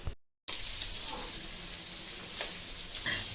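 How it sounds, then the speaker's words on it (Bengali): Fish fries in a pan with a dense, continuous hiss and sizzle after a brief silence, steady and fairly close, with faint crackles. "তা এখন আমি চলে এসে মাছটা রান্না করছি।"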